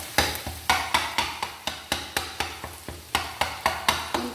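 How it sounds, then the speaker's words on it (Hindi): Metal spatula chopping and stirring keema on a hot tawa, a rapid run of sharp clanking taka tak strikes about every quarter second over a faint sizzle, close and steady, with no talking. "ये इस तरह की आवाज़ें आपको वहाँ पे आती हैं जब वो टकाटक कटाकट कीमा बना रहे होते हैं।"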